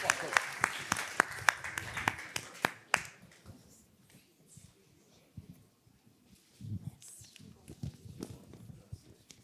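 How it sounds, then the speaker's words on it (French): At the Ciné-Mantes film festival award presentation, a handful of sharp, distinct claps ring out near the start in a loose series. The clapping then fades into quieter room noise and talking. "Qu'on applaudisse s'il vous plaît."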